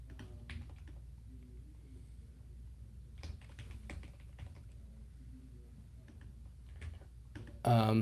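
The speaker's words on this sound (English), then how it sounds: "I'll let Gregory keep typing" Continuous typing on a computer keyboard, with soft rapid key clicks at a steady pace and a louder thump near the end.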